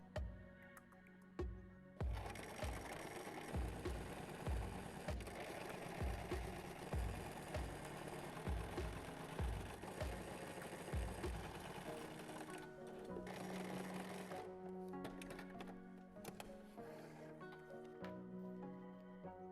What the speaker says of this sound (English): once you fold it and sew the sides, you have your product finished